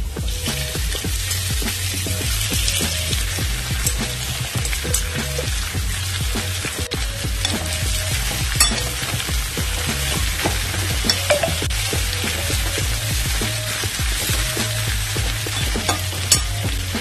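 Washed mokhyachi bhaji greens stir-fried in a pan with fried chilies, giving a steady close sizzle with repeated scraping and tossing strokes throughout, no talking.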